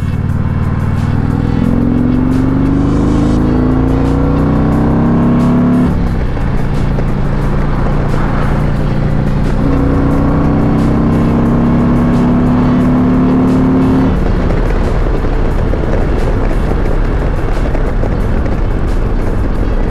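A small two-stroke Rieju 50cc moped engine revs loudly and continuously, pitch rising and falling as the rider accelerates with a passenger on the back, with wind noise throughout.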